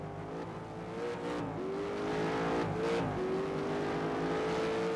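Turbocharged touring race car engine in the GTR2 racing game, revving steadily with rising and falling pitch through gear changes, loud and continuous with no talk.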